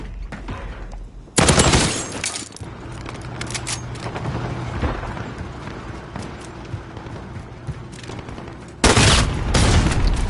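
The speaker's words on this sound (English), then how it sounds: "That's a shotgun." Shotgun blasts in the video game Modern Warfare: two sharp, loud bursts, one near the start and one near the end, with busy gunfire and explosion clutter between them.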